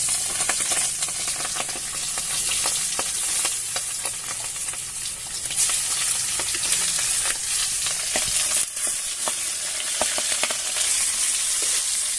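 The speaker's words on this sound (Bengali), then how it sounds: "আমার তেল গরম হয়ে গেছে, আমি মাছের মাথাটা দিয়ে দিচ্ছি।" A fish head fries in hot oil with a loud, continuous sizzle and crackle, close by, with occasional spatters and stirring scrapes and no voices.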